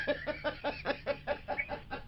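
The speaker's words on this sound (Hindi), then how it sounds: "सर, मुर्गा कहते हैं उसको।" A rooster heard over a phone line on a radio prank call, giving a rapid series of about ten short, evenly spaced clucking calls across two seconds, fairly faint and alone.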